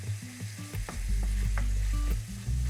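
Ground beef frying in a dry pan as it is broken up into small crumbles, with loud close sizzling and repeated scraping and tapping of a utensil against the pan.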